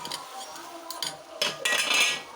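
Chopped potato pieces tipped into a cooking pot for a potato and chana dal curry, making a few brief, close clinks and clattering knocks against the metal.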